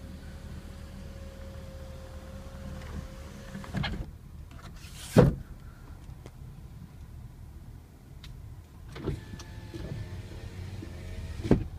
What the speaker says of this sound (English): Let's go ahead and close the sunroof.